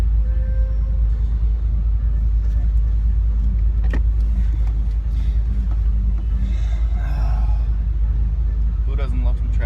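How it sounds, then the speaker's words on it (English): A car driving through commute traffic, heard from inside: a constant low engine and road rumble runs throughout, with a few brief knocks and faint passing vehicle sounds on top. "A little bit of traffic."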